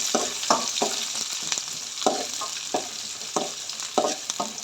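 Onions frying in hot oil in a pan, a steady close sizzle broken by repeated scraping stirs of a spoon against the metal, roughly every half second to second, with no voices.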